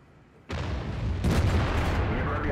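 One heavy tank cannon shot in World of Tanks from an IS-6, a sudden deep boom that rolls on with a second surge of rumble, loud and close.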